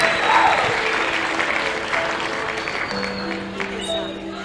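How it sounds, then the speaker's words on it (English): Audience applause for a debate group after its score is announced, a broad wash of clapping at a steady level, with a voice talking faintly underneath. "A round of applause for them."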